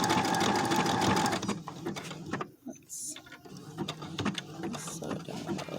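A Brother sewing machine embroiders a heart with a steady, close mechanical whir and rapid needle clatter that briefly slows and pauses, then resumes.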